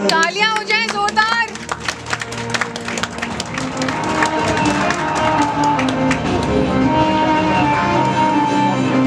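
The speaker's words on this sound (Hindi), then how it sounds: "तालियां हो जाएं जोरदार" Loud, sustained applause from an audience at a Swati Helping Hand Trust event for International Women's Day, dense clapping that rises over the end of a sung line and continues steadily, with some voices mixed in.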